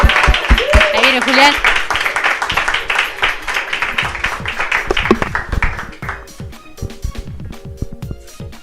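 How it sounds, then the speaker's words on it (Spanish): An audience at a startup event applauds as a speaker comes on stage, with dense clapping that thins out as the applause fades, and a nearby voice speaking over it. "Pido a todos que le demos un gran aplauso"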